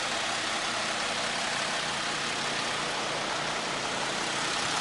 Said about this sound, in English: They're pumping all the water out.